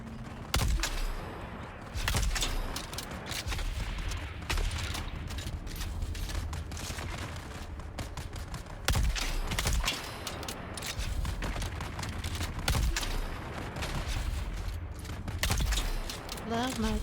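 Rapid rifle gunfire crackles from a sniper rifle in the sci-fi survival game Dune Awakening, with sharp, loud shots and mechanical clatter repeating over a dense, busy battle din while a voice talks throughout.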